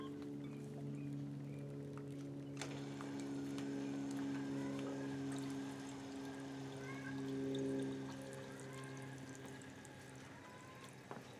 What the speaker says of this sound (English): I want to see if I could get the pump to drive water through this contraption